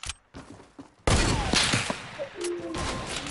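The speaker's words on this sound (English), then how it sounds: "I'm shooting." Loud, dense rapid gunfire from a squad-based shooter video game erupts after a second of muffled noise and continues in overlapping bursts, with whooshing effects.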